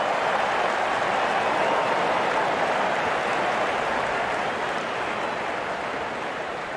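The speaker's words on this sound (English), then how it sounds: "There's such a wonderful crowd in to watch their favourite players." Steady broadband crowd applause and cheering at a cricket match in an India versus Australia game, a continuous wash of clapping that holds at a constant loud level throughout with no pauses.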